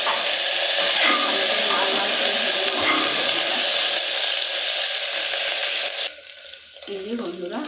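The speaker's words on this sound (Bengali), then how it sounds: "আমি এই যে সরষের তেল দিয়ে দিচ্ছি ফুলকপি ভাজার জন্য।" Cauliflower frying in mustard oil inside a hot cooker gives a loud, steady broadband sizzle for about six seconds, then drops to a quieter hiss, with a faint voice near the end.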